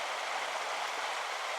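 A small stream runs straight down off a hillside, a steady close rush of water that stays even from start to finish with no talk.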